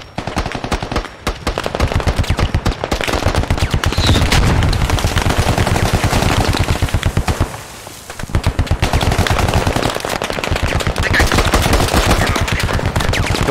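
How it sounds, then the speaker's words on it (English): In the video game Squad, loud, rapid automatic gunfire rattles in long continuous bursts, pausing briefly partway through before resuming just as intensely. "Yeah, I see where he's shooting."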